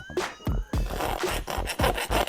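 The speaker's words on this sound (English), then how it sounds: "You take this round file." A round metal file rasps against a go-kart wheel hub in quick, repeated back-and-forth strokes, loud and close, with a steady scraping rhythm and no talking.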